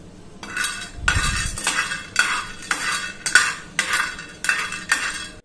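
Whole spices, including six buds, are dry-roasted and stirred in a pan while making Vangi bath masala powder. A utensil scrapes and clinks against the metal in about seven regular, close strokes, with no talking.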